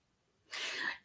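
A single sharp sneeze bursts out after a quiet moment, close and fairly loud, then quickly fades.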